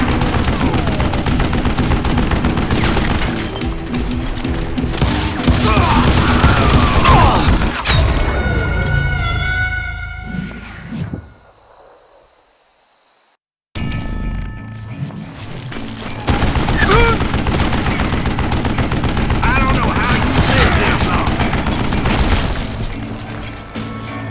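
Gunfire in the Western shooter Call of Juarez Gunslinger, loud dense volleys of revolver and rifle shots with booming impacts, a short silent gap, then the barrage resumes just as heavily.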